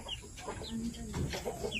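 Chickens, including Plymouth Barred Rocks, cluck softly in short bursts, with a few higher squawks and quiet background noise of a backyard farm.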